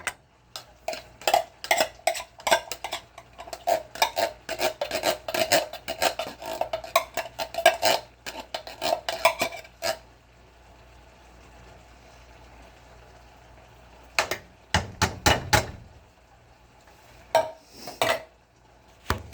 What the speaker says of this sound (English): Get yourself a spoon, get in there and get all the beans out.